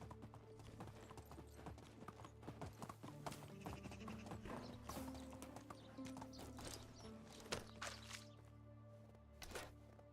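A horse clip-clops at a steady walking rhythm while being ridden in the medieval survival game Medieval Dynasty, hooves close and clear, with a brief whinny and faint background sounds.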